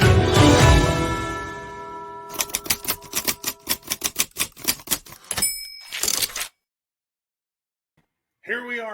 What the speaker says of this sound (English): those tap, tap, tap sounds is an old-fashioned typewriter